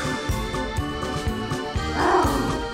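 A small puppy, the runt of a litter, growls and yips in a low, rough rumble with brief snarling bursts, near and fairly loud over a busy background.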